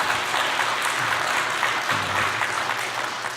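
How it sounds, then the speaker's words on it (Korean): A church congregation claps together in sustained, dense applause during a Sunday worship service, the sound steady and fairly loud from start to finish with no talking over it. "우리 하나님 앞에 다시 한번 영광의 박수 하십시다"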